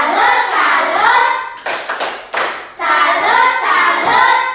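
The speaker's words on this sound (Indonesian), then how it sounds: "Tepuk salut untuk mereka dulu. Tepuk salut." Classroom 'tepuk salut' clapping routine: a few sharp rhythmic bursts of hand claps from a group of students, set between stretches of children chanting aloud in unison.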